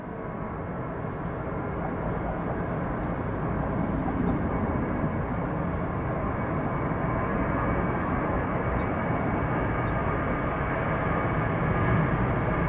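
An aircraft at Atlanta International Airport roars steadily in a broad, continuous engine rumble, loud and sustained throughout, with faint higher tones drifting above it.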